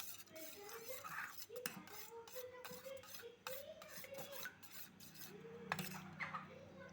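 Spoon stirring an omelette egg mixture in a bowl, a steady scraping and rasping that repeats through the clip at close range, with faint talk and a soft hum beneath.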